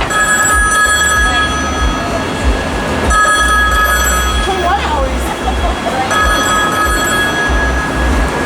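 A toy or device ringing as it lights up, giving a steady bright electronic trill that repeats in bursts over a noisy background, close by.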